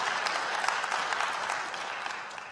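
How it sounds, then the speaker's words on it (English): A church congregation claps hands in praise to God, a dense, steady wash of applause from many people that holds evenly for a couple of seconds, with no talking over it. "Let us give a hand clap of praise to God"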